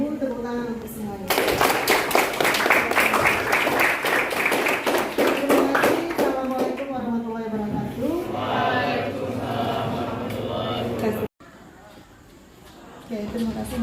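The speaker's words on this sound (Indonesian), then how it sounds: "tepuk tangan untuk semuanya" A classroom group of children claps together, a dense burst of hand claps for several seconds, then fading as a teacher's voice and chatter take over.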